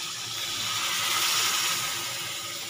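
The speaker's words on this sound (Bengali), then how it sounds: "এখন দিয়ে দেবো জল।" Water pours steadily into a pot of chicken and potatoes for a curry, a continuous close gushing splash that lasts throughout with no talk.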